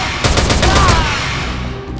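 Rapid automatic gunfire in the mobile shooter Rival Fire, a loud, dense burst of overlapping shots that rolls on for about a second before trailing off into echo.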